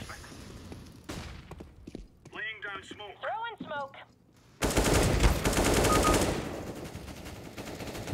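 Rapid automatic gunfire bursts from the CS:GO video game, loud and dense in the second half, with a voice commentating and brief game sounds beforehand.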